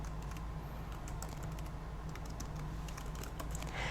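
Soft rapid keystrokes tap on a computer keyboard as a name is typed for a new swatch group in Photoshop, fairly faint over a steady background hum, with a dense run of clicks throughout.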